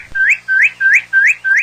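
A blackbird's song comes through as five identical rising whistled notes, loud and close, evenly spaced and heard alone.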